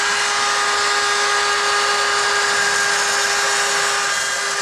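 A high-pitched power drill whines steadily and loudly with a constant tone, grinding without pause throughout, rounding out the inside of a drilled hole on a Polaris RZR 200.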